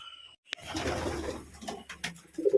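Pigeon cooing near a loft of biscuit-coloured pigeons in Murshidabad, a few soft coos rising toward the end against low background rumble.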